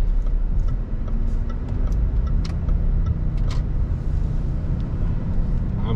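Car driving through Portishead town, a steady engine and road-noise rumble heard from inside the cabin, continuous and moderately loud, with a few faint clicks and no clear talk.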